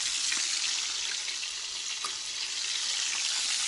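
Steady hiss and crackle of fish sizzling in hot oil in a pan outdoors, continuous and fairly close, with no voices.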